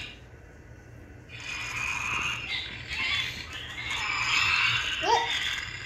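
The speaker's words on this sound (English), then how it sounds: "He's snoring." A small electronic toy pet snoring, giving soft wheezy, rasping breaths in a slow repeating rhythm, close and fairly quiet, with a brief higher squeak near the end.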